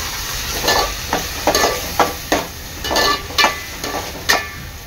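Onion and tomato fry in a pan, with a steady sizzle and repeated scraping stirs about every half second, loud and close with no talk.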